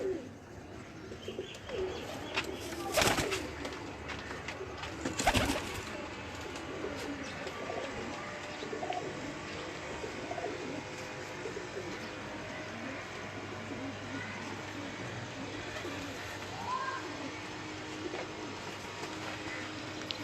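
Breeder pigeon pair cooing steadily close by with soft chirps, punctuated by a couple of sharp knocks and under occasional talk.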